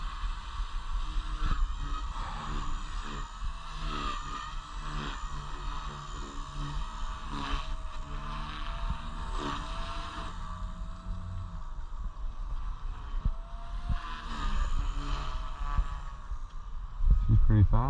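A Blade Fusion 180 RC helicopter runs at high head speed, its rotor and motor making a loud, steady, whining drone with shifting pitch throughout, rising louder near the end.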